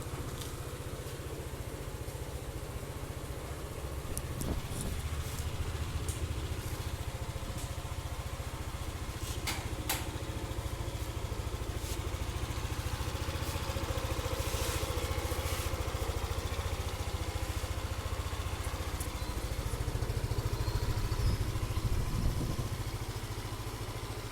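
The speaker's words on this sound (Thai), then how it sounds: "เครื่องยนต์ดีมากเลยนะครับ ไม่มีดังไม่มีควันเลย" A white 2017 Yamaha Aerox 155 ABS scooter engine idles steadily with a low, even hum and faint clatter, quiet and unchanging throughout with no talk.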